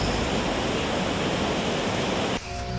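Waterfall roaring as a dense, steady rush of falling water that fills the scene, loud and continuous before dropping away slightly near the end.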